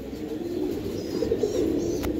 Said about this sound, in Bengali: ব্যাক টু ব্যাক টুর্নামেন্টের কবুতর।